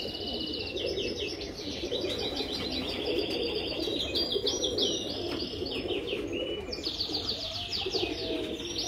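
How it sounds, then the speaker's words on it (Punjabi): Chuha breed pigeons in a breeder's loft, with continuous soft cooing and chirping from several birds at close range over a steady background murmur. "ਇਹ ਸਾਰੀ ਚੂਹੇ ਦੀ ਬਰੀਡ ਹੈ ਚੂਹਾ ਕਬੂਤਰ"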